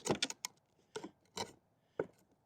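Chisel work cleaning up rough wood edges on a deck landing build: a few short, close scraping and tapping strokes, separated by brief pauses, with no talk.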